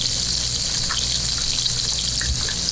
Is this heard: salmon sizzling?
yes